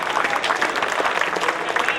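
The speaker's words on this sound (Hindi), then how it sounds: "तो अब ये जो तालियां हैं ऐसे घनघोर होती जाएंगी।" Audience applause at a Hindi comic poetry recital, a loud, dense burst of many hands clapping close by, continuous for the whole short stretch.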